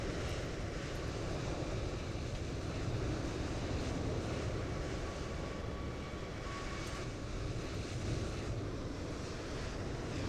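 Loud, steady jet engine roar of a Delta jetliner just after landing in Microsoft Flight Simulator 2024, a broad continuous rumble with wind-like hiss holding level throughout, no talking.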